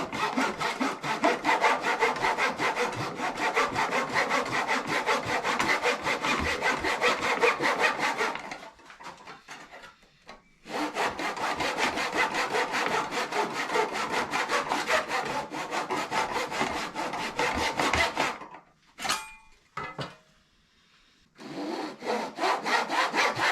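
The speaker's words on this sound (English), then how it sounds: "cut your slot, move to the next one, cut the slot, rinse and repeat until you've done them all" A hand saw cuts slots into the wood of a Stratocaster guitar build in close, rhythmic back-and-forth strokes, running in long passes separated by short pauses.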